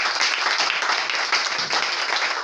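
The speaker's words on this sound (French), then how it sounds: "Acclamons pour Jésus-Christ." A church congregation applauding during a service, dense sustained clapping from many hands filling the room at a fairly loud, even level.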